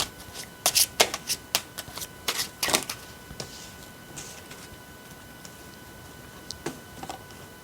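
Tarot cards are shuffled and snapped in a quick run of crisp riffling bursts, then go quieter with a few scattered flicks near the end. No one speaks.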